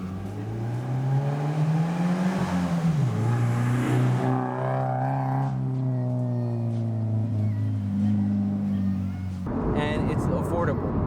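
A car fitted with a cheap eBay aftermarket exhaust revs up and drops back several times, a raspy, droning engine tone rising and falling over a steady idle, loud and close.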